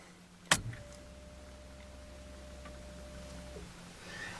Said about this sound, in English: So, let's just get the car started.